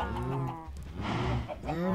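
A sheep bleats in the CodeCraft video game, a pair of wavering, nasal calls close up and loud, with no talking over them.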